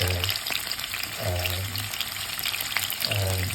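Tofu pieces tempering in hot oil for a Sri Lankan tomato curry gravy, a steady close sizzle with a few louder low bursts of bubbling, no one talking.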